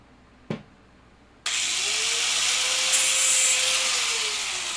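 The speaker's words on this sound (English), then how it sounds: "Deburring pass." A steel toe cap for a pair of sandals is deburred with a power tool: one sharp click, then a loud, steady high grinding whine with a tone that rises, holds and sags slightly.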